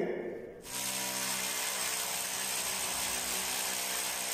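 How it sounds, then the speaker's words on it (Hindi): A power drill with a 16 mm bit boring a hole into a concrete ceiling for a chandelier hook, starting abruptly after a brief pause and then grinding loudly and steadily without a break. "10 mm की हुक को लगाने के लिए हम 16 mm का ड्रिल बिट यूज करेंगे"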